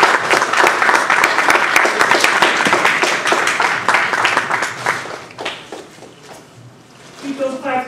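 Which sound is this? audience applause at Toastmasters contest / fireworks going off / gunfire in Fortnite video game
audience applause at Toastmasters contest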